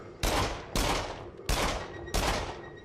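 Four loud, evenly spaced gunshots from real-looking guns in the VR shooter Rush of Blood, each a sharp broadband blast with a decaying tail, fired about every 0.6 seconds with no talking.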